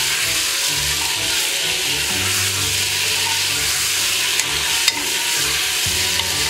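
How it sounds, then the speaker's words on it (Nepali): Marinated chicken fries in ghee with a steady, close sizzle and crackle, joined by the irregular scrape and clatter of stirring for a homemade chicken biryani. "म्यारिनेट गरेको चिकन यो चाहिँ हामीले घिउमा फ्राई गर्दैछौँ मजाले"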